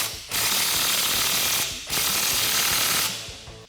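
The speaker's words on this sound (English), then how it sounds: "we're gonna go ahead and tighten down our clamp" A hand ratchet tightens an exhaust clamp on a 2015-2017 Mustang GT fitted with an MBRP cat-back, giving three rapid, close clicking bursts separated by brief pauses.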